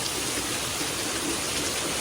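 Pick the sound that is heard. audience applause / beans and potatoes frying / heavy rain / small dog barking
heavy rain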